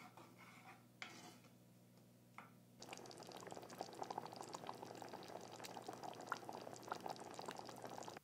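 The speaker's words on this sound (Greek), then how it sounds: "Βράζουμε μέχρι να δέσει η σάλτσα." Aromatic sauce for yogurt kebab simmering in a pot, a steady close bubbling and hiss that starts after a few soft clinks and dominates the rest, without talk.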